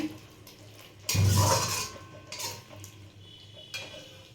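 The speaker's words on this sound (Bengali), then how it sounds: "এবার এটাকে নাড়াচাড়া করে নেবো" A utensil stirs sweet chilli baby corn gravy thickened with cornflour in a pan, giving one louder scrape and clatter followed by a few softer scrapes, close and quiet with no talking.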